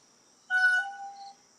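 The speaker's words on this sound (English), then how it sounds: "Listen to the nature as it sings. The crickets crackle." A single short, bright insect trill of crickets chirping in nature, about a second long, against an otherwise quiet backdrop with a faint steady high hum.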